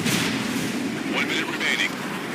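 A missile launching from an Su-30SM fighter jet in a combat flight game, a loud, broad rushing roar that stays steady throughout, with a brief whistling tone over it partway through.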